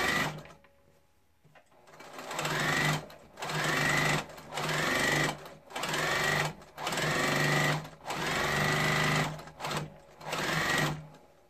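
A sewing machine runs a straight stitch along a fabric edge while making a French seam, in six or seven loud, steady bursts of whirring with short pauses between them.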